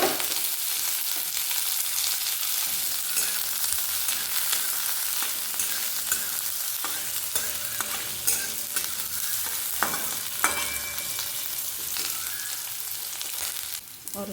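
Onion and carrot fry for a vermicelli upma, giving a dense, steady sizzling hiss close up, with occasional soft scrapes and knocks of a stirring spoon in the pan and no speech.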